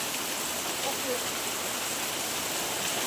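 Heavy unseasonal rain pours down in a steady, dense hiss that stays constant throughout, with no breaks.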